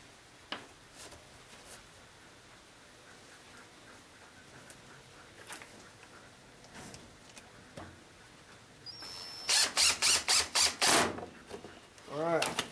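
A screw is driven into a wooden beehive inner cover, with quiet handling clicks first and then a loud, close run of rapid whirring bursts, ending in a rising mechanical whine.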